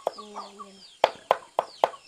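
Chickens in a highland Muong and Thai village cluck in short, sharp bursts, a rapid run of close, repeated clucks following a softer call, with no talk over them.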